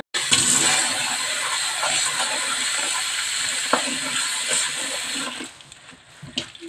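Drumstick flowers are swished and rinsed in a bowl of water, a steady close splashing and trickling that fades out near the end, with no talking.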